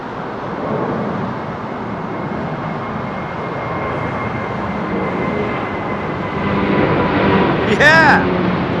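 A Boeing 787 Dreamliner passes at London Heathrow, a moderate, steady jet rumble that swells toward the end as it draws closer.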